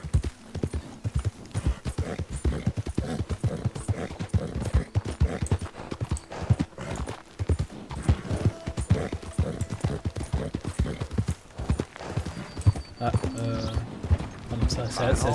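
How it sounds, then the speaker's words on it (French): Hooves clopping in a steady, rhythmic walking gait from a horse in Red Dead Redemption 2, continuous and close, with someone talking over it in French. "Il grogne le cheval, là."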